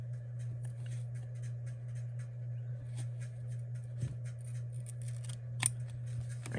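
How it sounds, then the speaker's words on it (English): Scissors snip through paper flowers for an artist trading card, giving a quick series of light, crisp cuts close by over a steady low electrical hum. "So I'm going to take these flowers and just cut again."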